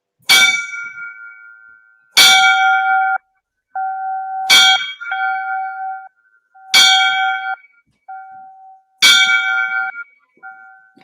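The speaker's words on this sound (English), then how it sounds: "we're gonna give him the 5 bells tonight" Five loud bell strikes ring out one after another at roughly two-second intervals as a memorial tribute, each clear metallic clang followed by a sustained ringing tone.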